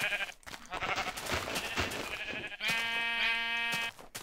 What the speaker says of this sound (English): There's still some sheeps.